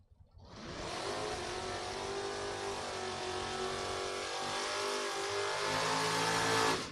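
Camaro drag race cars, including a 1967 model, accelerating hard down the strip, a loud sustained engine roar with rising revs that holds steady for several seconds, close and alone without speech.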